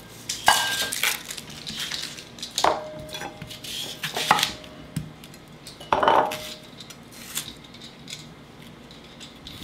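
Onions being chopped on a kitchen board, irregular knife strikes and clatters of utensils at close range, fairly loud, with no talk.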